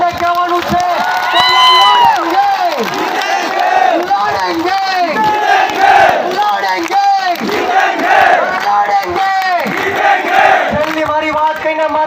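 Large crowd at a political rally in Dediapada, Gujarat, clapping and cheering together with loud sustained shouts and whoops rising and falling across the whole stretch.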